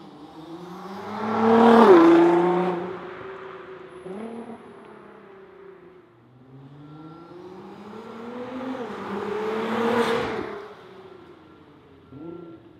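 A Nissan GTR fitted with an ARMYTRIX exhaust makes two drive-bys, its engine note swelling loudly as it approaches, peaking with a throaty rise, then fading away before a second pass builds and recedes.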